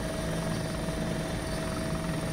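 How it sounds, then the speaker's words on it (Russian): Helicopter heard during a large airsoft game at Tushino, a steady droning rotor hum at moderate distance, continuous and unbroken with no talk. "Вертушка ушла на север."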